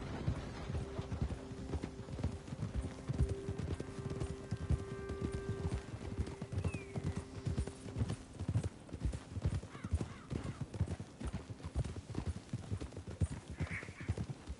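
Steady clip-clop of horse hooves in Red Dead Redemption 2 trots along continuously, close and even-paced, with a brief whinny and faint ambient tones behind.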